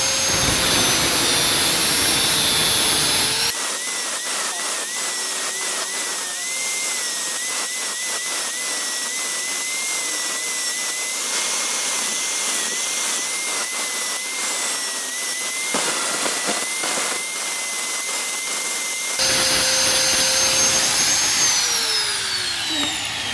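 A high-pitched power tool whines loudly while cutting off excess material from a motorcycle clutch part, spinning up, grinding continuously for about fifteen seconds, then winding down.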